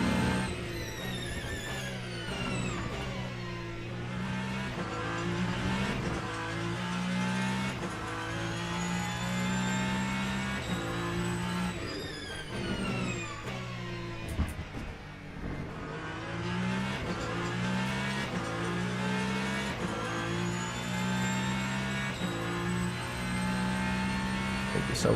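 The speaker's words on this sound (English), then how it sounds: "The Valkyrie is a V12 engine car. Can't wait for the sound then." An Aston Martin Valkyrie V12 race car in the Le Mans Ultimate racing game at Imola: a loud, sustained engine drone with repeated rising and falling revs through gear changes, continuous throughout.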